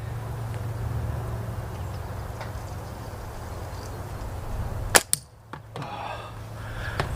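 A natural tree-fork slingshot made of beech or plum fires once with a sharp snap and quick follow-up clicks, then brief quiet, against a low steady outdoor hum.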